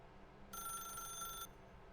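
In The Stanley Parable, a telephone gives a single short electronic ring of about one second, clear against a quiet background hum.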